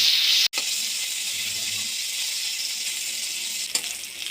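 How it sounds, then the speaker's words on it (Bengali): Paneer cubes fry in hot oil that already cooked cauliflower and potatoes, a steady bright sizzling hiss, close and continuous, with a sharp break near the start and a faint clatter later. "ওই তেলের মধ্যে পনিরগুলো ভেজে নেব।"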